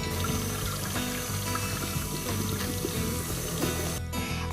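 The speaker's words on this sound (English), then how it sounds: "So you're going to rinse those potatoes with some nice cool water." Boiled potatoes rinsed under cool running water for potato salad, a steady close pouring and splashing stream that continues evenly for a few seconds before briefly cutting out near the end, with no talking.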